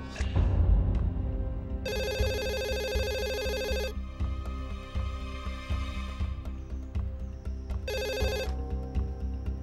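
A telephone rings in an indoor scene from a Turkish drama, its electronic bursts repeating at a steady spacing under a constant low room background, with no one speaking.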